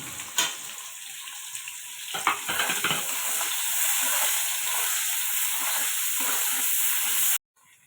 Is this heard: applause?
no